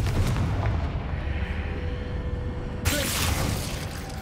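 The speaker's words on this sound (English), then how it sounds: "Confringo!" A fire spell detonates with a heavy rumbling blast in the video game Hogwarts Legacy. A sustained roaring burst is followed by a sharp, bright crackling surge near the end, loud and close, with no talking.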